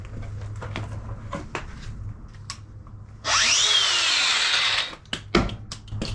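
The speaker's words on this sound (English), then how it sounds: "Time to start wire wheeling this rust off." A power wire wheel grinding rust off a 25+ year old horse trailer, a loud harsh whir that starts abruptly midway and runs about two seconds before cutting off, with scattered knocks and handling noise around it.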